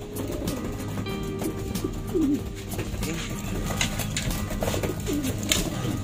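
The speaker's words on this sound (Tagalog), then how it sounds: "So ayan mga kalapatids" Pigeons cooing close by, low soft repeated coos over a busy background of other chirps and outdoor noise, with a few brief scattered sounds throughout.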